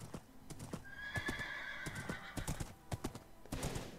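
A horse in the Minecraft video game gallops with quick, steady clip-clop hoofbeats and lets out a drawn-out whinny in the middle, moderately loud and close.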